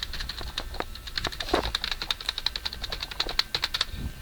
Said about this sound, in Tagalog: Yung keyboard.